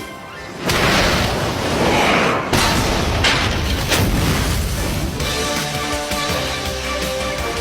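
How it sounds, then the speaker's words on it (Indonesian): A cartoon stink blast goes off as gas is set alight: a sudden loud boom followed by a crackling, rumbling roar that slowly fades, with no voices over it. "Ledakan bau busuk."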